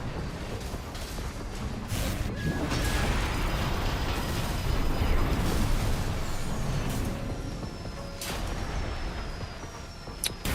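A missile strikes an enemy tank in a mech combat game, a dense roaring blast that swells and rumbles for several seconds amid crackling debris and mechanical whirs, with no talking.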